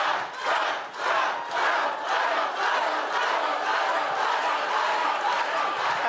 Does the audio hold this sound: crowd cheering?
yes